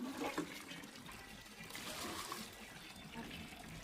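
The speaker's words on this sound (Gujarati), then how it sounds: "એને આવી રીતના પાણીનું ભરી દેવાનું, આખે આખું ભરી દેવાનું" Water trickles and splashes faintly as it fills the container of a hand-cranked homemade ice cream maker, a low, continuous pour heard close but soft.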